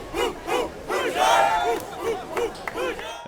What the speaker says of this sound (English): fans cheered as if they were at Hard Rock Stadium in person